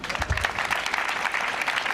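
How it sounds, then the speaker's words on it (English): Applause at a church service in Uganda honouring candidates, with Bishop Wilberforce Kitoruwarira as chief guest; steady dense clapping fills the whole moment without pause. "a big round of applause."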